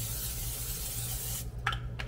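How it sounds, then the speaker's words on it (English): Olive oil sprays onto a pan set over medium-high heat on the stove, a steady close hiss that stops abruptly, followed by two brief short sprays. "we're going to spray our pan with some olive oil"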